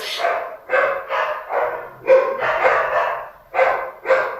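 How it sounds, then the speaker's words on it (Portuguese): A dog barks in a rapid series of about eight loud, sharp barks, near and clear, with short pauses between them and no talking over them. "é cachorro latindo"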